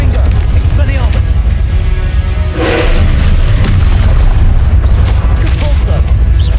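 Combat spells such as Incendio, Confringo and Expelliarmus cast in the Hogwarts Legacy video game, loud booming impacts and bursts in quick succession with a voice calling out spell names over them.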